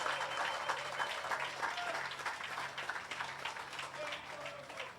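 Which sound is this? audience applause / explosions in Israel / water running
audience applause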